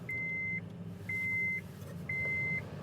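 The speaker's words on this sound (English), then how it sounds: "I'll turn on the car right now" A car idles with its air conditioning running, a low steady hum under three evenly spaced, sustained electronic tones, each about half a second long.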